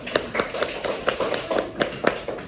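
Schoolchildren clap their hands in a classroom, a run of about ten evenly spaced sharp claps at close range, fairly loud and unaccompanied by talk.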